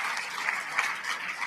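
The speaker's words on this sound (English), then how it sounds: "Give a round of applause." A brief burst of audience applause at a landscaping awards of excellence ceremony, dense, even clapping heard from within the crowd.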